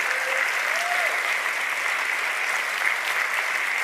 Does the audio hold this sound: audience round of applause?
yes